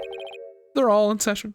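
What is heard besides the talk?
phone ringtone in a video game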